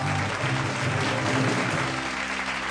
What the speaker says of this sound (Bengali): জোরে হাততালি ওদের জন্য।